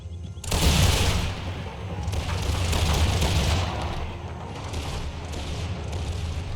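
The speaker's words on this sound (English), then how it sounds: "Oh, the Dutch rifles shooting at." Dutch rifles fire in the Empire 2 Mod multiplayer battle, a dense continuous crackle of volleys and distant shots rolling together into a loud, sustained roar.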